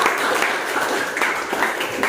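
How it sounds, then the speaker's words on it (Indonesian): Classroom students clapping together in a lesson, a moderately loud, dense patter of hands with slight rhythmic swells, continuing briefly with no speech over it. "Tepuk tangan dulu untuk semua"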